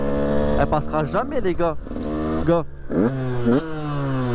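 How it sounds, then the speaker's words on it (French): A motocross motorcycle engine with a stock exhaust revs in repeated sharp bursts, loud and close, rising and falling in pitch, while someone talks over it. "C'est le moteur d'un cross"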